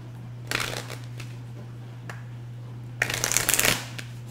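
Two quick bursts of a deck of cards being riffled and bridged, close up, separated by a pause, with a steady low hum underneath.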